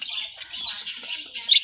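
Female budgies in a newly set up cage chirping, a quick run of high, thin tweets and twitters close by, with no talking.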